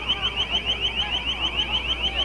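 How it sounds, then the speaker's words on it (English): A piercing electronic siren wails in a rapid repeating warble at a street protest with police lines, loud and continuous throughout. "We're still hearing that piercing siren sound."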